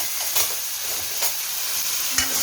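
Finely chopped tomato sizzling and frying in a pan of oil with cumin and garlic, making shev bhaji. A steady hiss of frying runs throughout, broken by a few brief stirring scrapes.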